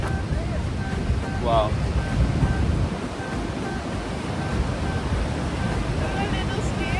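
A large New York waterfall roars as a loud, steady broadband wash with wind buffeting the microphone, and a voice briefly exclaims over it.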